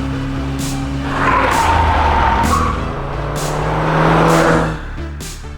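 A Peugeot 205 GTi pulls away for a drive, its engine rising in two broad revving surges with a steady drone between them, followed by a few short knocks at the end.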